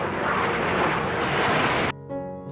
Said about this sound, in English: Jet fighters are used by the Air Force